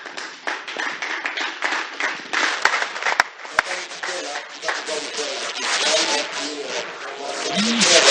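Applause at an international conference on women's rights as representatives step forward, uneven clapping from a crowd with a few sharp individual claps. It builds louder toward the end, and voices murmur underneath.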